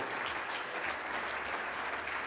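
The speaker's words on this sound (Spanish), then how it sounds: "Un gran aplauso para BBVA y para Gonzalo." Audience applause at a BBVA presentation during the Digital Bank México 2023 event, a dense, steady wash of many hands clapping at once, sustained and fairly loud throughout with no speech over it.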